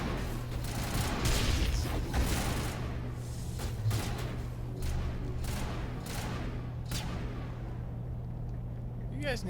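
Sniper rifle shots crack during a Mass Effect battle with the Geth, a string of sharp reports spread across a continuous droning battle background, with a voice talking over it.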